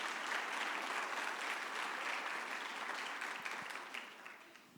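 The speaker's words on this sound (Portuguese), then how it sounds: "Você pode aplaudir o Senhor Jesus por esse espelho maravilhoso?" A church congregation applauds the Lord Jesus during a service, a dense, loud wash of clapping that holds steady and then slowly fades toward the end.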